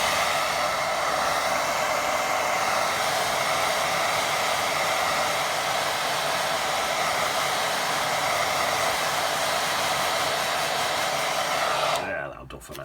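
Hair dryer blowing on a watercolour painting of local woods, a loud continuous roar held steadily for about twelve seconds before it cuts off abruptly.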